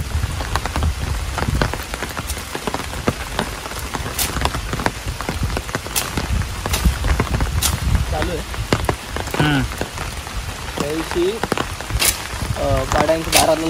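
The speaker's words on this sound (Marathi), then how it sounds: "यो काय पाऊस येलो आता." Steady rain pours onto paddy fields during monsoon rice transplanting, a dense continuous patter of drops close by, with people talking intermittently over the downpour.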